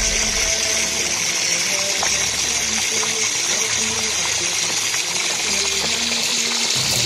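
Water gushes steadily from a tap during wudu, an arm being washed under the continuous flow, with the stream staying loud and unbroken throughout.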